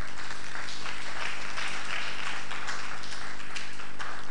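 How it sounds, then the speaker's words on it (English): An audience at an education event applauds in a dense, sustained wash of clapping that stays steady and fairly loud from start to finish, with no voices on top. "Please, I think all three of them deserve a round of applause."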